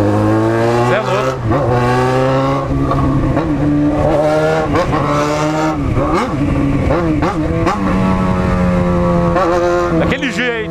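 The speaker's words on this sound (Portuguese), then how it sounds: "Ô, ronco gostoso da porra dessa moto, mano." A Yamaha XJ6 motorcycle engine roars close by, revving up and down through repeated rising and falling pitch sweeps, loud and continuous, with someone talking over it.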